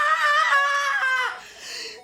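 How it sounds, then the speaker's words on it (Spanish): A loud, sustained human scream, a high, strained cry held for over a second before it breaks off and trails into a softer, lower wail. "Este grito ha sido porque sí"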